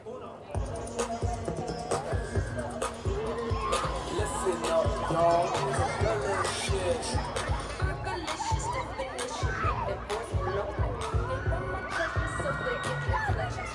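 Dense crowd chatter fills an outdoor gathering at the St. Augustine Nights of Lights opening ceremony, a steady murmur of many voices with occasional louder calls and shouts throughout.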